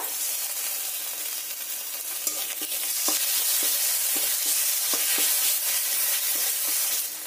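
Garlic, onion and ginger paste sauté in a pan for a yogurt fish curry: a steady close sizzle broken by rhythmic spatula scrapes and taps, alone with no voices.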